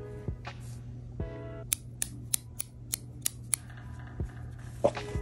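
Scissors cutting crochet yarn for a crochet top, a quick series of about seven crisp close snips in a quiet room, with faint low hum underneath.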